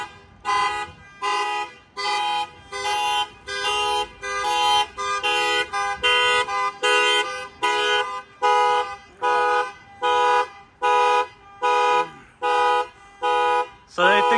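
A car alarm beeps in a steady repeating pattern, loud and close, with short bursts of tones separated by brief gaps throughout.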